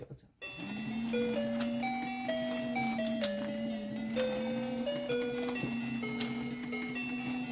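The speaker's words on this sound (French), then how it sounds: "maintenant, vous allez entendre la joie de ma super tirelire où on va mettre les billets" A novelty musical piggy bank for saving banknotes plays a tinkly, music-box style melody, steady and fairly close, running continuously with a sustained low hum beneath the bright notes.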